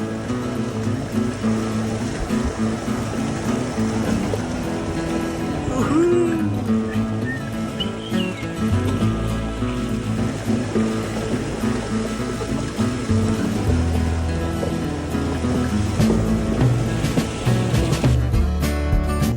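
A vehicle fords a large river water crossing beyond Gunji on the Om Parvat route in the Himalayas. Loud rushing water and churning splashes run throughout over a low engine rumble, with no voices.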